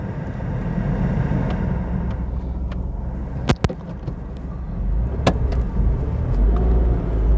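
A Tata Tiago's engine idles steadily on CNG with the air conditioning running, giving a constant low hum with even RPM and a couple of faint clicks, heard close with no voices.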